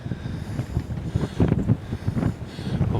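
Strong wind buffets the microphone at a coastal nature reserve on Bridgwater Bay, a loud, rough, gusting roar that swells and dips over three seconds with no talk.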